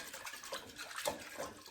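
A whisk stirs cornstarch into water in a kitchen, giving a soft, continuous wet swishing and sloshing with faint clinks against the bowl, close and alone.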